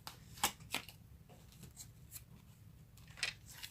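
Tarot cards being shuffled by hand, giving several crisp riffling and snapping bursts at uneven intervals, close and fairly quiet against a soft background.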